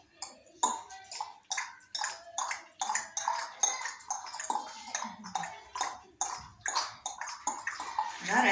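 A speech therapist leads children in a tongue-clicking exercise at a kindergarten, steady rhythmic clicks from the mouth imitating a galloping horse, close and fairly loud, with a voice faintly mixed in.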